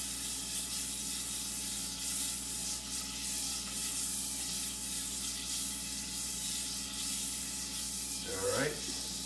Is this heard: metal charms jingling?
no